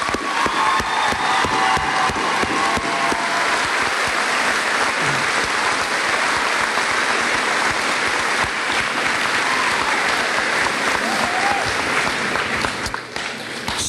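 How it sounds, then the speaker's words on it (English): A school district audience gives a sustained round of applause, dense and loud clapping that holds steady for the full length before dropping off at the end. "I'd like to give them a round of applause."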